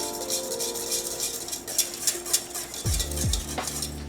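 An ice cream egg batter stirred in a pot, a utensil scraping and clinking against the metal in steady strokes, close and fairly loud, with faint sizzling underneath and no talk.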